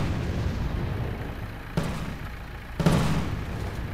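Gunfire in the video game M.A.V., heard as two sharp booming reports about a second apart over a steady broadband background rumble, with no voices.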